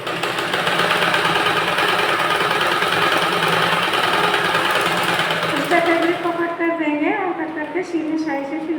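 Sewing machine stitching a blouse, a fast steady mechanical buzz up close for most of the time, then fading as someone speaks over the end.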